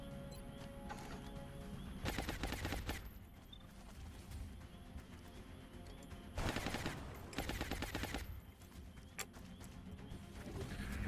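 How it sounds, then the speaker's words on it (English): Bursts of automatic gunfire in the video game XCOM Long War, two loud sustained volleys with scattered single shots between them over a constant background din. "I'm under fire."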